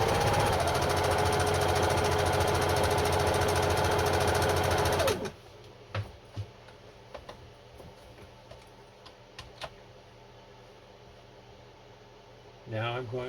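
Singer Genie sewing machine running a straight stitch in one loud, continuous burst for about five seconds, then stopping, leaving a quiet room with a few soft clicks and a brief restart at the end.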